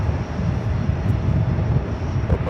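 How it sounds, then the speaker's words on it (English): An Airbus A220-300 jet taking off at JFK gives a loud, rumbling engine roar, steady and close throughout the brief moment, with no voices. "Airbus A220-300. Jetting out of here like a rocket."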